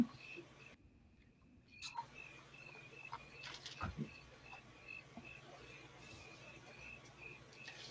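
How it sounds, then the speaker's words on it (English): Faint, steady cricket chirping outdoors runs as a thin high trill throughout, soft and distant under low background noise, with brief clicks and a voice nearby. "we've got crickets ASMR out there"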